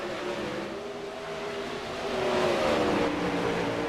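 Race cars from a racing league run on the track during a Monday night race, a moderately distant engine drone that swells louder as the cars come closer.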